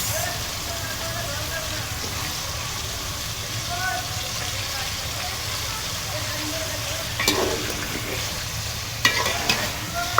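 Fish pieces sizzling in hot oil in a pan with turmeric and chili powder, a steady crackling fry throughout, broken near the end by a few scraping stirs of a spatula.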